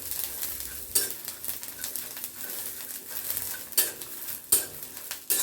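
Chilies and garlic roast and crackle in a hot pan over low heat, with repeated scraping strokes of a spoon stirring, fairly close and without any talking.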